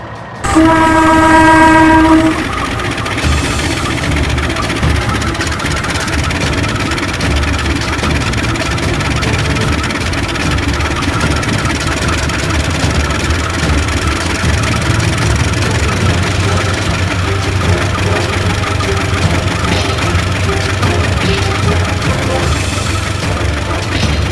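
An Indonesian Turangga train set departs with a brief loud horn blast, followed by a steady, heavy rumble of engine and rolling wagons that stays close and continuous.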